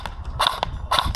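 An airsoft gun fires at a game site, giving sharp, close snapping pops in quick succession over faint ambient noise.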